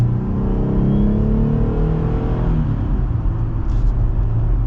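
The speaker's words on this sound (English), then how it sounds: "smooth power delivery from the naturally aspirated engine" A 2024 Jeep Gladiator Sport S pickup's naturally aspirated engine revs up loudly with a rising growl, then settles into a steady rumbling hum.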